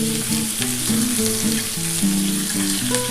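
Papaya pieces sizzle as they fry lightly in a pan for a vegetable curry. The close, steady crackle runs throughout over a soft melodic tune playing underneath.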